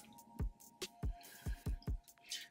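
Box braid ends dipped into water, a series of about seven soft splashy plops and drips at an uneven rhythm, close and quiet with no talking.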